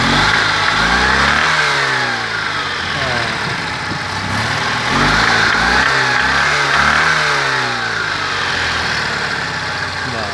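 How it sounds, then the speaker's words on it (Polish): A Fiat Cinquecento 704 cc engine, just repaired, revs up and down repeatedly at close range, rising and falling in smooth swells over a steady running tone. "Silnicę chodzi elegancko. A, obrociki równe."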